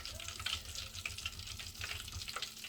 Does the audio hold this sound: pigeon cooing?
no